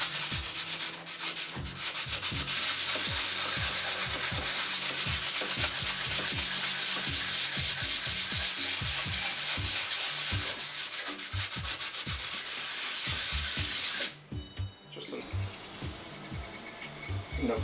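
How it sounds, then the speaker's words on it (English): Sanding with 220 grit sandpaper on a block to remove old adhesive and gasket on a boat rebuild, continuous rasping strokes in a steady back-and-forth rhythm, close and loud, ending after about fourteen seconds. "And just start sanding the top."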